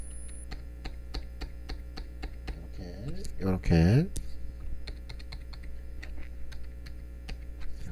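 Computer keyboard keys, including control and arrow keys, pressed in a quick series of crisp clicks while editing in After Effects, with someone speaking briefly over the tapping.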